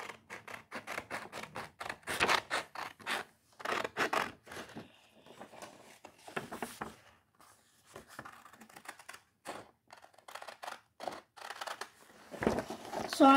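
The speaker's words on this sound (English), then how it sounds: "So I'm just going to cut it out very good." Scissors snip steadily through a paper card, a quick run of close, crisp cuts with brief pauses between bursts, and no talking over them.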